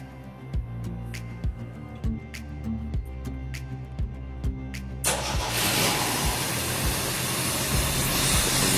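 A 1980 Jeep CJ-5 being restarted after repair work: a steady ticking idle runs for about five seconds, then the engine catches and roars into a loud, broad, continuous running sound close by.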